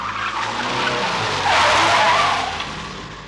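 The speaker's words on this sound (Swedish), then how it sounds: "När vi kom till olycksplatsen blev vi nästan påkörda av en bil." A car skids in a radio play sound effect, nearly running people over: a loud, drawn-out tire screech with engine noise that swells in the middle and then fades.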